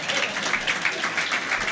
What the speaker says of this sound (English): So I'll take your applause now.